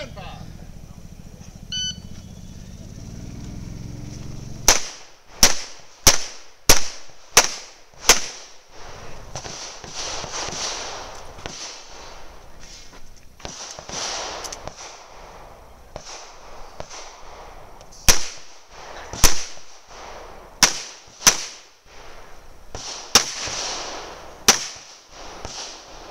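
Gunshots from shooters on a competition stage at the Spartanburg Showdown, fired in sharp bursts of rapid, loud cracks with pauses between strings, with a voice speaking in the background.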